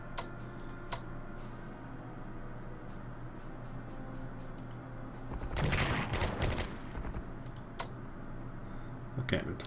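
A bombing run on an army in the strategy game Strategic Command: World at War sounds as a burst of rapid crackling gunfire and blasts near the middle, over a steady low hum with sparse clicks before and after.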